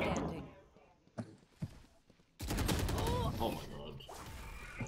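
Gunfire in a shooter video game: a couple of sharp isolated shots, then a dense, loud burst of rapid automatic fire that continues steadily to the end, with players' voices faintly mixed in.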